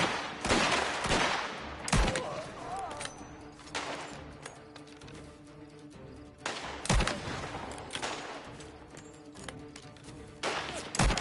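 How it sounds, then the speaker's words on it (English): Gunfire in the video game Mafia: The Old Country, a string of sharp shots cracking at irregular intervals, some loud and close, others softer, over a low ambient rumble. "There's someone shooting on the right, but I can't see him."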